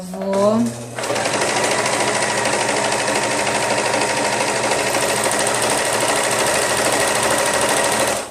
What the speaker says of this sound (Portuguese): vou fechar toda na overlock, porque ela é só meio centímetro